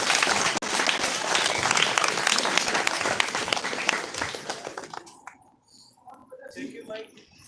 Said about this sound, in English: Folks, give a big round of applause for the woman.